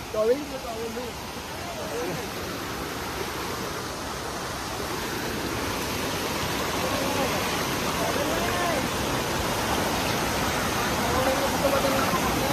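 Steady, dense rushing of falling water at Veer waterfall near Chiplun fills the scene, a constant roar that swells slightly louder toward the end.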